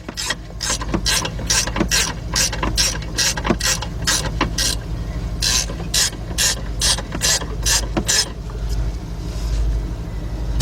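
A ratchet clicks in rapid, steady bursts while tightening the timing belt tensioner on a 2002-2005 Hyundai XG350, close and loud over a low engine-bay hum, then stops.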